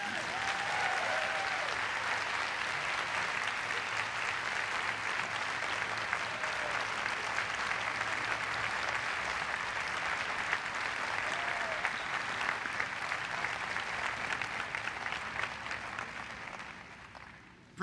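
Sustained, dense applause from a large university audience welcoming Congressman John Lewis at Emory, a steady roar of clapping with a few scattered whistles and cheers, holding for nearly eighteen seconds before cutting off.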